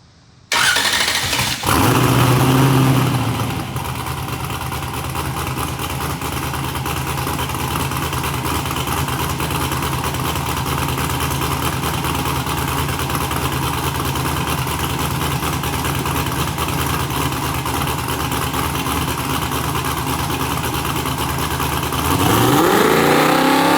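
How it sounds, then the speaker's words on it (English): A car with an LS engine launches from a standstill and revs hard through the gears on a hub dyno, a loud continuous roar with rising sweeps that holds for about twenty seconds. "We're going to launch from a stop and run through the gears like you were racing"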